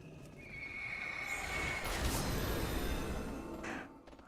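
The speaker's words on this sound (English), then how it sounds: "That was a bad time to use my horse." A World of Warcraft horse mount lets out a loud, drawn-out neigh over rushing galloping hooves and game noise, continuous for several seconds before fading at the end.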